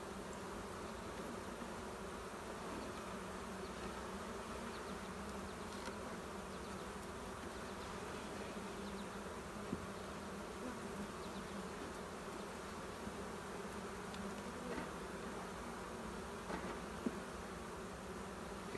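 Honey bees swarm around an open hive during a brood box addition, a dense, continuous buzzing close around the listener with faint scattered clicks and no talking.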